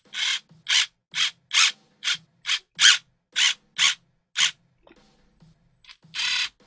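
A ratchet tightens a part during a Capra build, sounding as about ten crisp, evenly spaced bursts of clicking, loud and close, followed by a brief pause with faint handling noise and one last burst.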